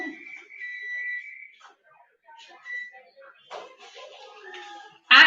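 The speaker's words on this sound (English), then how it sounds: "Ooh, timer." Kitchen timer going off during home cooking: a bright steady electronic ring for about a second and a half, followed by a few shorter fainter chirps, with scattered kitchen clatter and a loud knock at the end.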